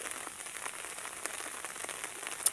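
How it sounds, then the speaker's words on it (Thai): Steady rain falling outdoors while out checking fishing traps, a soft continuous patter of drops on surfaces, fairly faint, with no voices. "ฝนเริ่มตกแล้ว"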